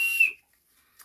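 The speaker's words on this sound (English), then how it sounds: "something I've done with my thumbsticks in the past is built in a bit of a whistle" A whittled wooden whistle built into the top of a thumbstick gives one short, shrill, piercing blast that stops abruptly, followed by near silence.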